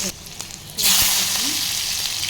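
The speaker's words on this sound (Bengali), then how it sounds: "কড়াই গরম হয়েছে, এর মধ্যে আমি একটু কালো জিরে সম্বাদ, তারপর কাঁচা লঙ্কা" Nigella seeds and green chillies hit hot oil in a wok and burst into a loud, steady sizzle that starts suddenly and keeps crackling close by.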